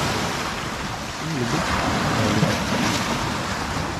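Water waves gaining strength, surging and washing in a continuous roar with wind buffeting the microphone, rising slightly in loudness partway through, with no one speaking over it.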